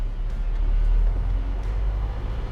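Mitsubishi Fuso Canter truck with a Euro 4 common-rail diesel engine revving, a steady loud low rumble heard from inside the cab for a few seconds, with no talking.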